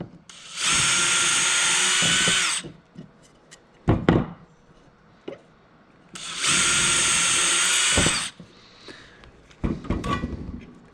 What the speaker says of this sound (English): We're gonna drill these holes out bigger.